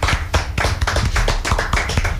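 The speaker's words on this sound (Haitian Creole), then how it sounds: "On applaudit Stacy." An audience applauds Stacy with a loud, dense round of clapping, many hands striking in quick, uneven succession throughout.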